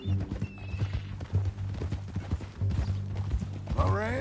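Horse hooves clip-clop steadily in Red Dead Redemption 2, with a rising whinny near the end and brief gear-like mechanical sounds, fairly close and loud.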